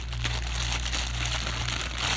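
A plastic bag and styrofoam wrappers around a Daiwa Saltist MQ 4000 fishing reel crinkle and rustle during unboxing, a close, continuous crackling with small sharper crunches and a low hum underneath.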